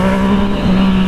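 A Yamaha MT-09 motorcycle revs hard on the throttle alone, giving a loud, close, steady high-rpm engine tone with strong harmonics over one short burst.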